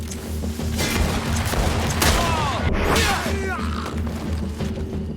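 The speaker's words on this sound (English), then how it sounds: "Watch out! Grenade!" Grenade blast in the Greedfall video game: a loud booming explosion with thuds and scattered cracking debris, sustained across several seconds amid combat noise.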